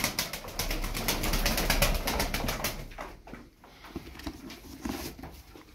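Tumbler pigeons are released one by one from a coop, giving soft cooing and fluttering wing patter close by, busy at first and then thinning out, with no talk.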